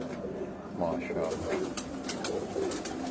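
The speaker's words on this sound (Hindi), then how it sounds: "ये कबूतर आपके देखने वाला है, ये अंडों पे है।" A pigeon sitting on eggs coos softly in low, rolling murmurs, partly under a voice speaking over it at close range.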